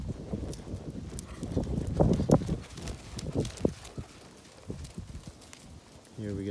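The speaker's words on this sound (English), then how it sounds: "Here we got this 10-year-old quarter horse, mare." A ten-year-old quarter horse mare, about 15 hands, walks with a steady clip-clop of hooves that sits under a voice talking through most of the stretch.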